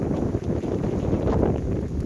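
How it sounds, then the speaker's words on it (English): Steady, loud wind buffets the microphone with a low, constant rumble throughout, with no voices, on a cold winter hike along the Appalachian Trail. "It's just very windy and very cold."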